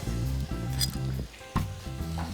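Bacon, peppers, onions and garlic sizzle steadily in a hot pan, a continuous frying crackle with a brief louder burst midway, heard over a low background of tonal sound.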